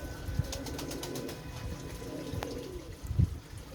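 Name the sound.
pigeons cooing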